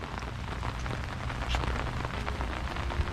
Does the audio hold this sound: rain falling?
yes